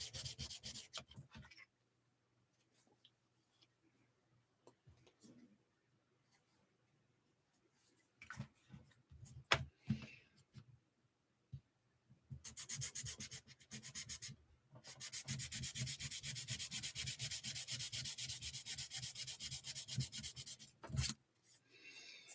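Long stretches of gritty sanding of wood with sanding blocks rub steadily back and forth, broken by pauses, taps and handling noises; loud and close.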